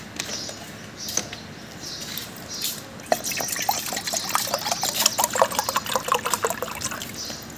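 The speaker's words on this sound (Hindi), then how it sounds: "पानी दे डाल के गिलास में" Water poured from a container into a glass at home: a close, steady trickle and splash that grows into a quick run of gurgling drips toward the end, with no talk.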